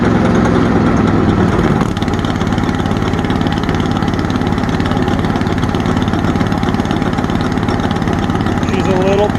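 The pony motor on a 1954 Caterpillar D9G runs with a loud, steady close-up chug and a constant mechanical drone that holds even throughout.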